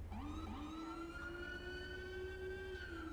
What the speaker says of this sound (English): you can do siren by pressing Alt